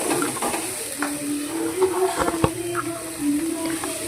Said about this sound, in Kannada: ಇದನ್ನು ನೀಟಾಗಿ ಹುರ್ಕೋಬೇಕು.